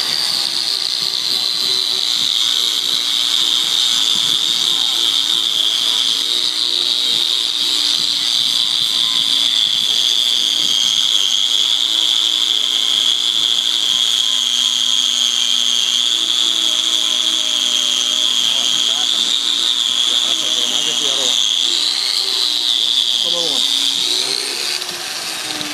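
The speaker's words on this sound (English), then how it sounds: "You notice we're using a wire brush here and not a sanding pad" Wire brush spinning on a power tool, scrubbing the surface of a cylinder head: a steady high-pitched whirring grind that holds for the full stretch and barely wavers, loud and close, with a low motor hum underneath.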